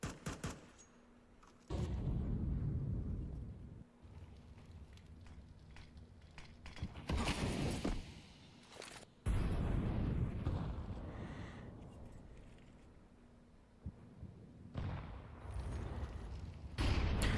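Grenade blasts and bursts of gunfire in Counter-Strike 2 during a competitive match, several loud booming explosions separated by quieter stretches of game ambience.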